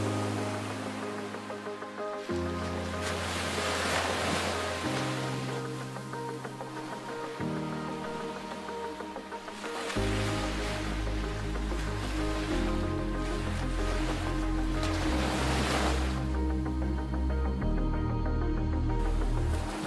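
Ocean surf washes onto Black Beach, a stretch of volcanic sand on Sal island in Cape Verde, as a steady, moderately loud roar with a tonal hum running beneath it and no voices.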